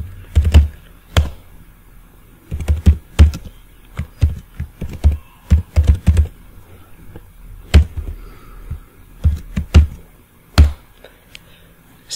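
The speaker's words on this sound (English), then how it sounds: "So inside body I'm typing a sample code." Keys clatter on a computer keyboard in irregular bursts of typing, close and clear, with short pauses between clusters of taps.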